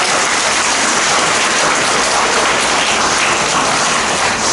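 A church congregation at a deacons' installation service claps in a dense, even patter that holds steady for several seconds without pause.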